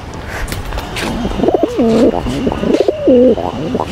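A pigeon coos several times in soft, rolling bursts close by, with faint background noise and a few brief sounds between the calls.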